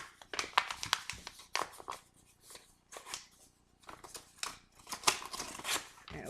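A cardboard box being folded by hand gives irregular dry scrapes, crinkles and sharp flaps in several bursts, close and fairly quiet, with short pauses between.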